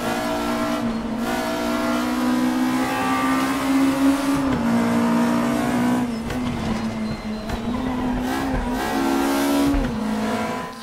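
Volkswagen Scirocco Group 2 race car in the RaceRoom racing game, its engine droning loud and steady with rising and falling revs, shifts and brief tyre squeal.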